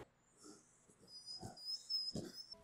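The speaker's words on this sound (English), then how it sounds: "Dogs are freaking crazy now." Dogs give a few short, scattered barks and yelps at moderate distance, with a thin high whine running through the background.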